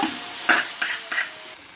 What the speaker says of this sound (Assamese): এয়া মাছখিনি দি দিলোঁ, মাছখিনিৰ লগত এনেকৈ মিক্স কৰি দিব।